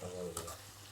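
Chicken pieces deep frying in hot oil for chicken pickle, a steady faint sizzle and bubbling with a low hum beneath and one brief brighter crackle.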